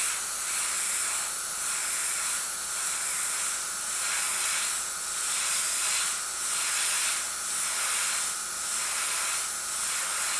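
An airbrush sprays paint onto a canvas in a continuous close hiss, pulsing in regular short bursts about once a second as it sweeps back and forth.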